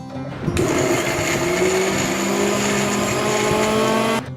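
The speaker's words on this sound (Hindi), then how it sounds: "50 ग्राम पत्ता गोभी मोटे टुकड़ों में काट लीजिए, इसे मिक्सी में डाल लीजिए और थोड़ा सा पानी डालकर इसे पीस लीजिए।" A kitchen mixer grinder blends coarse cabbage pieces with a little water, its motor whirring loudly and close for about four seconds before cutting off abruptly.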